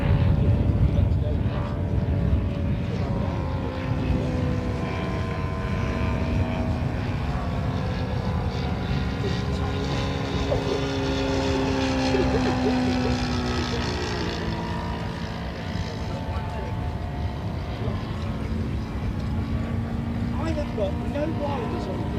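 A Westland Lysander propeller aircraft flying at an airshow at Elvington, its engine drone steady with a wavering, slowly shifting pitch, alongside a sustained hum and a voice talking over it.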